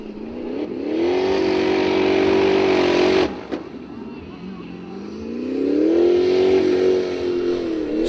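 Formula Offroad car Green Thunder, driven by Guðmundur Jónsson at Hella, Iceland, revs loudly and close, its engine rising and holding, dropping briefly, then climbing again.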